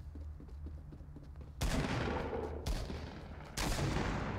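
Gunfire in the Fortnite battle royale, solo mode: three loud, sharp shots with short tails land about a second apart over a quiet, low game hum.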